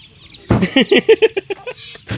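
A chicken clucks in a quick series of short, rhythmic notes close to the listener, with a brief squawk at the end.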